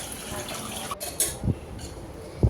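Peeled, sandy pointed gourd being rinsed in water, a soft steady wash of running or swirling water with a couple of small splashes near the end.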